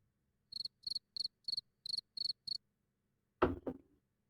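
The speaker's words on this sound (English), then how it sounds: "Thank you for playing the crickets whilst I was just having another sip of the beer" A crickets-chirping sound effect is played on a podcast, seven evenly spaced chirp bursts ringing out clearly against near silence, then a short louder thump-like noise follows.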